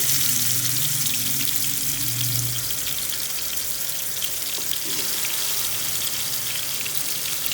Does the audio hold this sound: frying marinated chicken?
yes